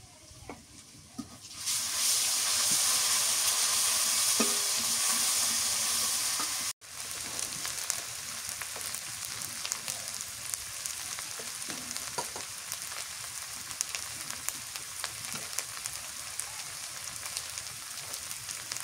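Garlic and cumin paste hits hot oil in a Bengali river fish curry, a loud steady sizzle that abruptly cuts, then settles into a softer crackling fry with scattered pops.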